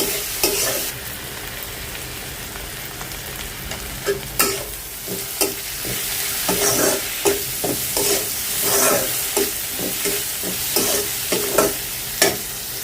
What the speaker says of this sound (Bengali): টমেটোটা পেঁয়াজের সাথে ভাজবো